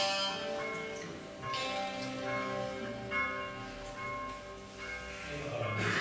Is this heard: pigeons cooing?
no